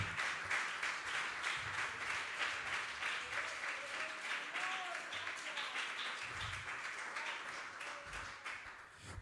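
Steady congregational applause fills a church service held in praise of God, sustained and fairly even in loudness with dense rapid clapping that tapers slightly toward the end, with a few voices faintly underneath.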